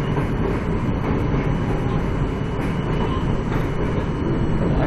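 A four-car R160 New York City subway train on the M line rumbles and roars continuously at close range, its wheels clattering faintly over the dense, loud mechanical din.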